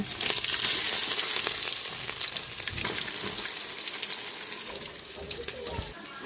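Onions, cumin seeds and spices frying in a hot pan, a steady loud hiss and crackle of sizzling oil, close up, with faint scraping from stirring and a little background noise.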